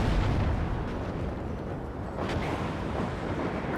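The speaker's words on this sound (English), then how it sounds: "Bradley's about to fire it." A Bradley fighting vehicle fires in the WARNO war strategy game, with a loud, dense roar of booming blasts and rumbling explosions that fills the whole stretch without pause.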